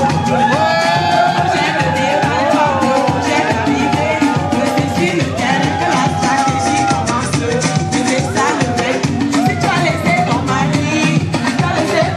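An audience at the FESTAFRIC 2024 African festival in Brussels claps and cheers in a steady, dense roar that lasts throughout, loud and close, with voices and whoops mixed into the noise.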